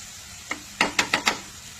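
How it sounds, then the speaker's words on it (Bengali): Spices sautéing in a little water in a pan during Bengali-style kosha cooking, heard as a few short bursts of sizzle and stirring scrapes about a quarter second apart, close and moderately loud with no talk. "এই যে দেখুন কষানো চলছে"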